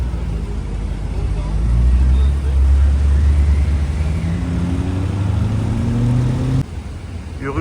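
A Lamborghini Urus Mansory passes on a Monaco street, its engine a loud, continuous low rumble that swells and holds before cutting off abruptly near the end, with traffic and city noise around it.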